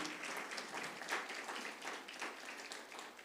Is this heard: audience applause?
yes